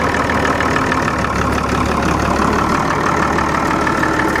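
A steady, loud Ford tractor engine runs at a constant idle, with a continuous low rumble and mechanical knock throughout, no other sounds.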